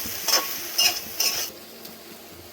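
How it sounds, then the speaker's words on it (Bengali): A spoon stirs soybean chunks and potato with spices in a pan, three distinct scraping strokes over a faint sizzle, then quieter frying with no voices. "সুন্দর করে সয়াবিন আলু আর মশলাটা সুন্দর করে মিলিয়ে দেবো"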